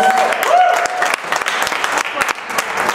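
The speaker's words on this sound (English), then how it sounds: "We'll give him a round of applause anyway" A stand-up comedy audience in Klamath Falls applauds in a sustained, fairly loud wash of claps. A whistle-like tone and some voices come through near the start.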